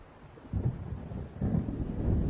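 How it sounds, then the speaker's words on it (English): Low rumbling thunder of an approaching storm over open water in the Alan Wake video game, rolling in two swells that build louder, with a windy, rain-like hiss underneath. "It seems there's a storm coming."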